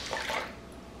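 Water trickling and draining off a handmade paper frame of recycled paper pulp in a kitchen, a soft brief splashy patter that fades quickly.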